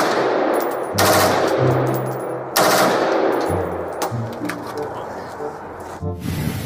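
M4 rifle fire rings out in a dinosaur battle video game, two loud sharp bursts followed by quieter scattered game sounds and a final crack near the end.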